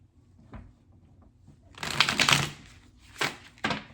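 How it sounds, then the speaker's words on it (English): Crisp riffling and snapping bursts of a deck of cards being shuffled close up, with a few sharp flicks in otherwise quiet surroundings. "I'm going to shuffle them first"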